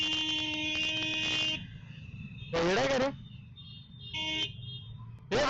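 A car horn honks on the road, first in a long blast, then in shorter separate toots, while someone speaks between them.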